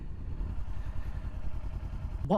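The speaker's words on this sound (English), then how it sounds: "If I just slowly release the clutch here, watch my hand, the bike starts moving." A Kawasaki Ninja 400 motorcycle idles steadily and begins creeping forward as the clutch is slowly released without throttle, a low, even engine rumble close by, ending with a short louder clatter.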